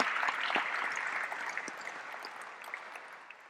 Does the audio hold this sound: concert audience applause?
yes